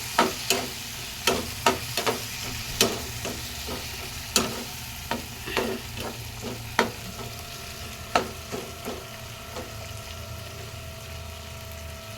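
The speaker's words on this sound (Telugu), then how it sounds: "టమాటా కూడా వేసుకుంటున్నాను ఇది ఫ్రై అవ్వాలి" Tomatoes frying in a pan for a Maggi masala egg omelette sizzle steadily, with sharp, regular spatula taps and clinks against the pan about every second, close and fairly loud, and no one speaking.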